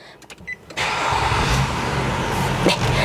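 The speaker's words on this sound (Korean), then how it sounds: "버튼 시동으로 시동 걸어서 엔진 소리 들으면서 추가적인 옵션 설명드리도록 하겠습니다" After a few faint clicks, the 3.5-litre engine of a 2010 Nissan Murano with 169,639 km starts by push button and settles into a steady, close idle rumble.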